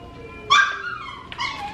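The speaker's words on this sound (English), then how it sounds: "You gotta get your dog out of here or something" A dog whimpers and yips indoors in a room where people are eating, two high whining bursts rising out of low background murmur, the first louder and longer than the second.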